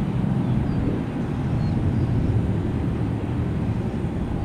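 Airplane taking off from runway 1 right, heard as a steady, low, rumbling engine roar at a distance, constant and even throughout, with no voices.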